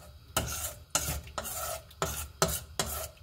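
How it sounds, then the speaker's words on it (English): Spoon stirring tempura batter in a bowl, a series of about six scraping, rasping strokes in a steady rhythm, close and moderately loud with no voices. "that was about a minute of stirring"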